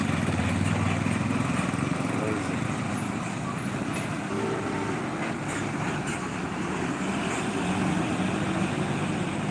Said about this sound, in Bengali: ওই যে একটা মোটর সাইকেল যাচ্ছে